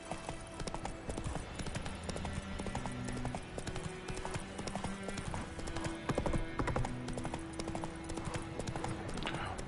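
Roach the horse trots along in Witcher 3, hooves clip-clopping in a steady quick rhythm, loud and close, with occasional snorts.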